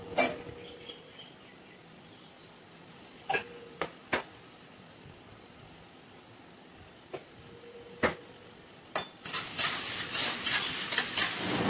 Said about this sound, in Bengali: তো এই সাইডে আমি আলু ভাজা করে নিচ্ছি।